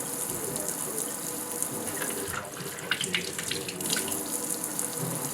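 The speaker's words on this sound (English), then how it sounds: "So first we're going to wash 6 apples, or 7 apples." Tap water runs steadily into a sink while apples are washed by hand, a continuous close gush with faint splashes and handling noises, no talking.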